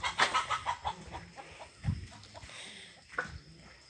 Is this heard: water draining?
no